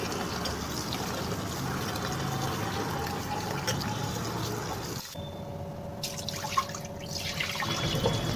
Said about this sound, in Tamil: நம்ம பச்சரிசியை நல்லா தண்ணி விட்டு 3 தடவை வாஷ் பண்ணி எடுத்தாச்சு